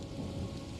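Steady rain hisses with a low rolling rumble of thunder in the Wuthering Waves video game, a brief, soft, even wash of storm ambience with no speech.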